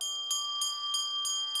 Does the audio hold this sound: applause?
no